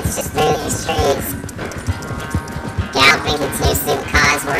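Horse galloping in Red Dead Redemption 2, steady clip-clop hoofbeats running under game music and background effects throughout, moderately loud and close.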